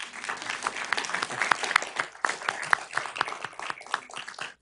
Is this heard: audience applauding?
yes